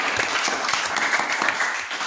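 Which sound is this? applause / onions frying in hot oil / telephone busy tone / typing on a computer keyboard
applause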